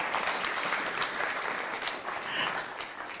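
A church congregation applauding during a live-streamed service, dense sustained clapping from many hands filling the room without a break.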